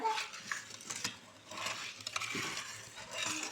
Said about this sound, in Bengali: একবারে দুধের সাথে ভালো করে মিশিয়ে নিতে হবে কর্নফ্লাওয়ারটাকে